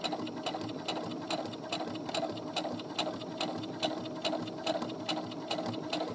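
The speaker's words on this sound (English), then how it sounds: "Alright, so I'm going to come up to the top here and then I'm going to back stitch." A sewing machine back stitching a pocket side seam runs in a fast, even mechanical patter with regular rhythmic clicks, close and steady throughout, no voices.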